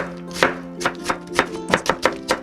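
A kitchen knife chops a new-season onion on a cutting board for sujebi, about nine sharp, close knocks in an uneven steady rhythm, with no talking.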